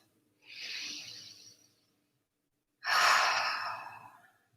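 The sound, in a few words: breathing in through the nose and out through the mouth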